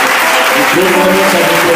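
A church congregation claps together loudly and continuously, close and dense, with voices mixed into the applause as they acclaim Jesus Christ.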